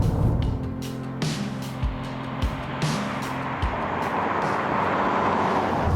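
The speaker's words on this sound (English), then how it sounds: "There's also a lot of road and suspension noise" Steady road and suspension noise inside a moving 2019 Toyota RAV4, a broad continuous rumble and tire roar with occasional low thumps from bumps, filling the cabin without any talk.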